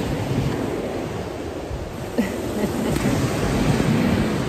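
Ocean waves wash onto a beach in the Seychelles, a broad, steady roar of surf mixed with wind buffeting the microphone. It stays fairly loud and continuous, and no one talks.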